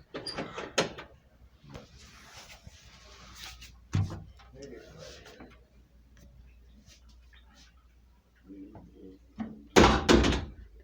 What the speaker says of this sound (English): Someone is opening and closing the door.